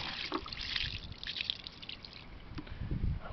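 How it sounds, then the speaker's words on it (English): Water draining from a residential water heater tank flushed of grainy, slimy sediment after three years, a steady close splashing trickle with scattered drips, running alone without talk. "So I'm draining it, and I can't believe how much crap was in the bottom of that water heater."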